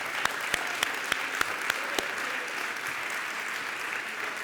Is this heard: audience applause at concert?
yes